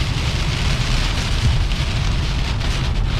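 Heavy rain from a passing storm front pours steadily onto a car during a hot rod road tour between Pensacola and Atlanta, a dense, loud, continuous hiss with a low rumble beneath and no talking.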